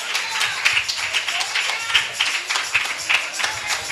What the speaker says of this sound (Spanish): Vamos, iglesia, dale un fuerte aplauso a Jesucristo